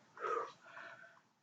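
A short breathy yawn during a hip-opening yoga strength class, a close airy rise and fall lasting about a second with a fainter trailing exhale.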